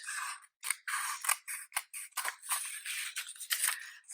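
Scissors cutting through a paper pumpkin craft, a close series of crisp snipping strokes in an uneven rhythm, roughly a dozen cuts separated by short silent pauses.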